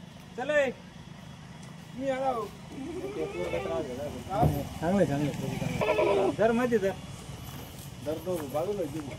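Kathiawadi goats bleat in short, quavering calls, one after another, close by, with people talking and some shuffling in the background.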